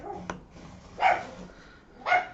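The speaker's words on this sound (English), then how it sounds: "I'm so sorry about my puppy, she's very vocal." A female puppy shut in a kitchen gives a short sharp yip, then two louder whiny barks about a second apart, heard from a short distance in a quiet room.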